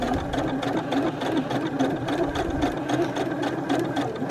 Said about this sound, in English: you're basically stitching as close as you possibly can to that metal washer